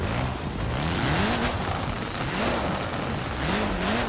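Reliant car in Forza Horizon 4 driving and turning, a steady loud engine drone with its pitch rising and falling in repeated sweeps as it accelerates and shifts through the corner.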